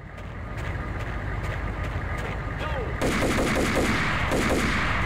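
A pump shotgun and other weapons fire in Max Payne. A steady stream of shots runs under background rumble, then turns into a louder, denser barrage of repeated blasts in the second half.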